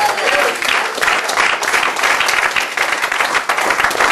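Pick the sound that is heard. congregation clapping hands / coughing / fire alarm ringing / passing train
congregation clapping hands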